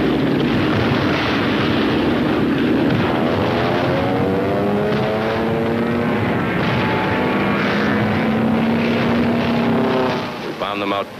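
A World War II warplane over Tarawa drones loudly and continuously, its engine pitch sweeping slowly as it passes overhead; no distinct explosions stand out.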